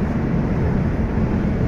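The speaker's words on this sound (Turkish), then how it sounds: "Hafiften bir rüzgar sesimiz var." Inside a 2022 Nissan Qashqai cruising at 140 km/h, a steady broadband rush of wind and road noise fills the cabin, constant and even with no talk.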